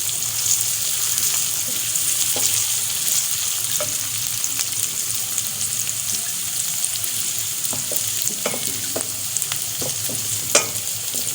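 Chicken liver and gizzards sizzle steadily in a pan, a loud, continuous frying hiss broken by scattered light taps and scrapes of a stirring spoon.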